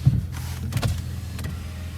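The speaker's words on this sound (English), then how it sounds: "Power windows, auto down, no auto up, but everything else is power, of course." Power windows on a Ford Maverick Hybrid pickup truck, with a short motor whir near the start and another around the middle, close by and fairly quiet inside the cab, no talking.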